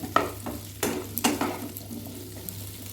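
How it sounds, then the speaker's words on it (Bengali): Potatoes being stirred and fried in a pan for a Bengali cauliflower dish, with a steady sizzle broken by several sharp scraping stir strokes, close and clear. "এবার আলুটা এভাবে নাড়াচাড়া করে ভেজে নেব।"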